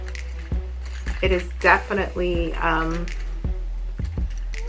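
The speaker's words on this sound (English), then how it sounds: "So I have my keys, obviously a necessity." A set of keys on a Louis Vuitton key ring holder jangles and clinks in a few short bursts while a person talks over them.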